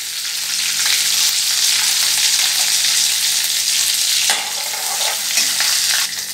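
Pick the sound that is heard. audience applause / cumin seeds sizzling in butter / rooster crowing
cumin seeds sizzling in butter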